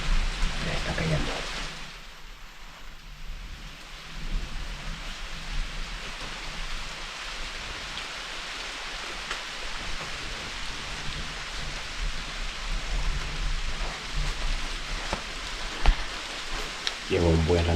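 Steady rain falls through a stormy outdoor scene, a continuous hiss with low rumbling underneath and a sharper crack near the end; someone talks at times over the downpour.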